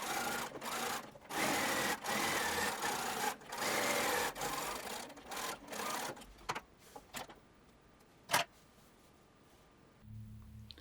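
Close sewing machine stitching around a pocket edge on harem pants, between the waist seam and the side seam, runs in several steady bursts with short pauses, then slows to a few faint isolated clicks near the end.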